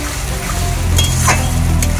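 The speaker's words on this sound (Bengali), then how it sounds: "আর এদিকে দেখো পেঁয়াজ টমেটোটা ভাজা হচ্ছে" Onion and tomato fry alongside chicken and capsicum over a wood fire: a soft, low sizzle under a constant hum, broken by a couple of brief utensil clinks.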